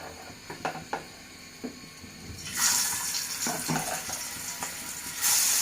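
Rohu fish pieces rubbed with turmeric, chili and salt fry in hot oil, a steady sizzle that swells loudly partway through, with faint clinks and scrapes of cooking utensils and no talking.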